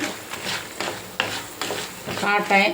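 Urad dal and chana dal fry in a pan, crackling under repeated scraping stirs, with a spoon clinking the pan every half second or so.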